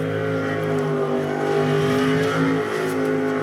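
A jetsprint racing boat engine at a national championship round in Wanganui, New Zealand, roars steadily and close by, with a strong harmonic drone that holds and swells throughout as it accelerates.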